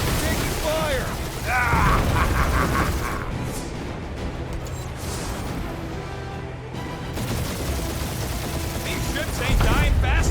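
Space-combat gunfire from the video game Guardians of the Galaxy, as ships trade fire: clattering mechanical bursts and booms over a constant roar, with voices talking over the action.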